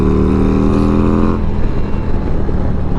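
A 2023 Harley-Davidson Street Glide ST motorcycle rides at speed in low gear, its loud, steady engine note droning close up and then shifting into rougher wind and road rumble.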